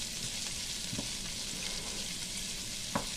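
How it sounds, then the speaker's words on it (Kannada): Onion, garlic and ginger fry in a pan for a mutton masala gravy, giving a soft, even hiss of hot oil with a couple of faint utensil taps, fairly quiet and without speech. "ನೋಡಿ ಈಗೆಲ್ಲ ಹಾಕೊಳ್ತಾ ಇದ್ದೇನೆ. ಸ್ವಲ್ಪ ಫ್ರೈ ಆಗಲಿ."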